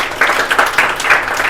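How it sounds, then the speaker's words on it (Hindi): Schoolchildren in a classroom clap for a classmate receiving a prize, a brief burst of uneven, fairly close hand claps. "ताली बजाओ आकृति के लिए"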